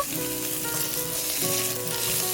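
Drained potatoes frying in a hot pan of cooking oil and perilla oil over medium heat, a steady dense sizzle that continues without a break and without voices.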